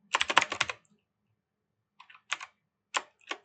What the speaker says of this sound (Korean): 직접 타이핑 할게요.